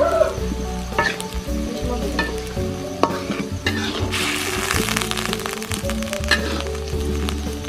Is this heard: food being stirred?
yes